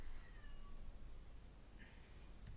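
A house cat meows insistently at close range, a short plaintive call rising near the end of a quiet room background.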